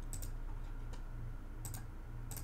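Keys on a computer keyboard are tapped in a Linux terminal, a few sparse, quiet clicks spaced apart over a low steady hum.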